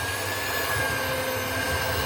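Electric hand mixer beating frosting of icing sugar and milk on a low setting, a steady whirring motor hum throughout, close and even, no talking.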